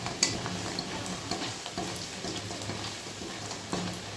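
Black cumin seeds tempering in hot oil for a fish curry, a steady close sizzle and crackle with a few faint stirring scrapes, fairly quiet and without speech.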